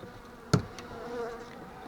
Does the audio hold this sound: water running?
no